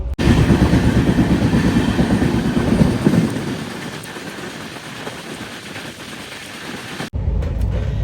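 The Telangana Express, train 12723 from Hyderabad Nampally to New Delhi, rumbles along with a loud, steady rolling roar that eases somewhat, then cuts off briefly and resumes.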